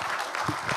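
Brief burst of audience applause at a church dedication and founding service, welcoming a National Assembly member to the front; dense, steady clapping over a short moment.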